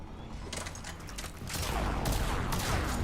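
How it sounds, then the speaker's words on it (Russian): Enemy gunfire in the video game Mass Effect 3: dense rapid bursts of shots crackle continuously, growing louder and heavier in the second half. "Так, стреляет в меня."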